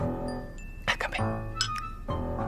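Glasses clinking in a toast over a home breakfast table, with a couple of bright, short glassy chinks ringing briefly amid voices and a faint sustained musical tone.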